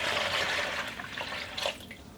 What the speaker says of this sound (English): let's add in some water